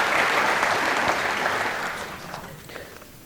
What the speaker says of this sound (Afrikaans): kan ons vir hulle ook 'n hande klap gee